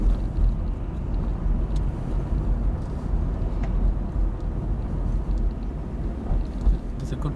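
A car rolls through a small roundabout during a driving lesson, giving a steady low road and engine rumble inside the cabin with faint clicks above it.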